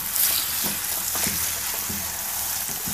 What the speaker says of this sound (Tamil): ஒரு கடாயில் நல்லெண்ணெய் ஊற்றி நான் காய வச்சுருக்கேன். இப்போ இதில் பார்த்தீங்கன்னா நம்ம கட் பண்ணி வச்சுருக்கோம் இல்லையே இஞ்சி துண்டுகள், இதை வந்து போட்டுடலாம்.